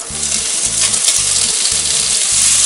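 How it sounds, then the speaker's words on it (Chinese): Cut pork belly sizzles and spits in a little oil in a hot cast iron pot while being stir-fried, a loud, close, continuous crackle with steady low scraping of the stirring. "接下来我们把切好的五花肉再去炒，尽量把猪油煸出来"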